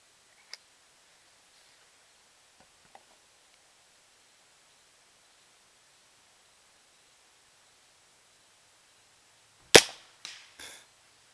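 Gunshots from an Empire Tracer First Strike breach load: after long near-silence with a few faint ticks, one loud sharp report lands near the end, followed closely by two quicker, weaker cracks or echoes.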